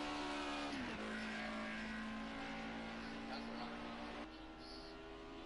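A race car on a circuit during a practice session drives down the straight on cold tyres, its engine a steady, sustained drone that shifts pitch near the start and eases slightly toward the end, with faint voices beneath.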